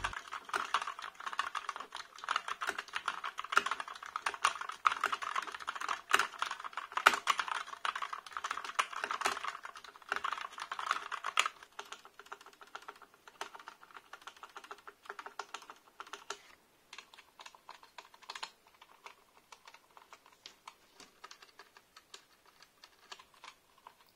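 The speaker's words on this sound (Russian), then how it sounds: "Ну и раз уж я включил клавиатуру, думаю, самое время попечатать." Rapid, close typing on a Zet Spectrum mechanical keyboard, a dense stream of clicky keystrokes that grows sparser and lighter partway through, with occasional heavier space-bar hits.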